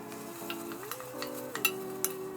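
Chopped onion and large-clove Chinese garlic fry in butter in a pan, giving a soft, steady sizzle with a few light stirring clicks, under a sustained humming tone.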